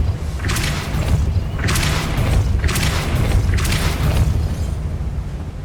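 Repeated spell blasts of Depulso in Hogwarts Legacy, four loud booming bursts spaced roughly a second apart, each with a bright crackling burst over a constant low rumble.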